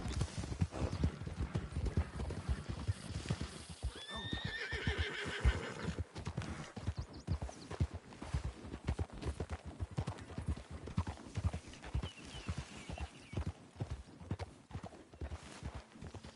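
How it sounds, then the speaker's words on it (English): Horse hooves clip-clop in a steady gait in Red Dead Redemption 2, with a loud neigh and whinny cutting in partway through, all fairly close and continuous. "they say that's one of the best horses in the game"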